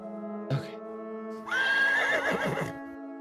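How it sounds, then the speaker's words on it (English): A loud horse whinny in a video game, a shrill rising and wavering neigh lasting about a second, heard over a steady humming music drone with a short thump just before it. "Is that a horse?"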